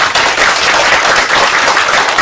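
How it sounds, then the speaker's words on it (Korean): Loud, dense applause from a congregation of hospital staff at a morning revival service, thanking the pastor after the sermon; continuous close clapping with no speech over it. "정민실 목사님께 큰 감사의 박수 보내드리겠습니다"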